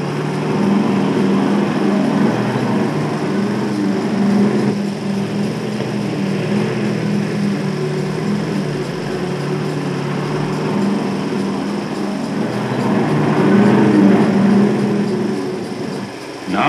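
An AEC 6x4 coal board dumper truck crawls over offset sleepers at a colliery, its engine holding a steady, moderately loud droning rumble that swells slightly toward the end.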